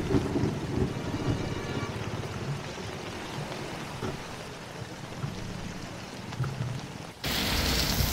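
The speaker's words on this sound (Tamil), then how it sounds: "ரொம்ப மழை பெய்யுது." Heavy rain pours during a long-distance motorbike ride toward Ladakh and Srinagar, a steady dense hiss throughout that surges louder near the end.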